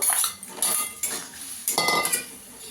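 A metal lid clanks onto a cooking pot of fish curry with potatoes and spices, giving several sharp close clinks and rattles in quick succession with no talk.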